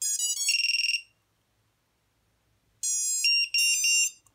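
Startup beeps from a freestyle racing drone right after its battery is connected: a short run of bright electronic tones, a pause of near silence, then another louder burst of rising beeps, close and clear with no talking.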